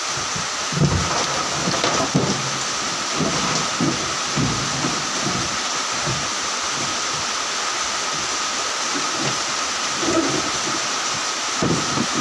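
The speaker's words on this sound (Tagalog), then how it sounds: "Lumakas guys, ang ulan." Heavy rain falling in a steady, dense hiss that fills the whole stretch without pause, with faint low knocks and rustles underneath.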